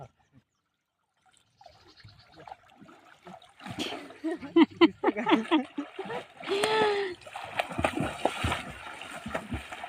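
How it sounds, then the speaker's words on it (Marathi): Swimmers splashing in village water on a sunny day, irregular close splashes and sloshes starting after a quiet moment, with voices talking over them. "आणि पूजा खूप ट्रेन झालेले आता एकदम छान असे पोहतात"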